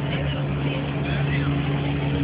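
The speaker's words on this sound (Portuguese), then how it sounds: "tá vindo uma lancha ali" A motorboat approaches at sea off Búzios, a steady low engine hum holding evenly throughout at moderate loudness against the wash of water.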